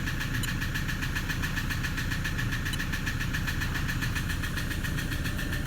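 A cold car engine idles steadily with a fairly quiet mid-pitched rumble and faint rhythmic knocking, heard alone at close range.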